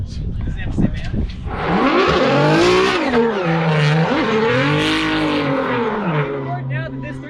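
A BMW E46 race car engine cranks, catches and revs up loudly nearby, its note swelling and dipping in rises before settling into a steady idle, with voices talking over it.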